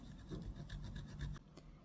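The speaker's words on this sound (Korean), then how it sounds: "거친 사포 이용해서 바닥에 놓고 문질러 주세요." Coarse sandpaper rubs the edges of a cowhide saffiano leather card wallet piece laid flat, giving quick, rhythmic rasping strokes that are close and fairly quiet, followed by a pause and one last scrape.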